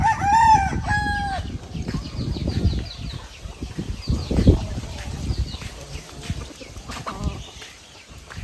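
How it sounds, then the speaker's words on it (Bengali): A native rooster crows loudly and close at the start, a single drawn-out call, followed by rustling, scuffling and wing flaps with low background noise. "দেশি মোরগ"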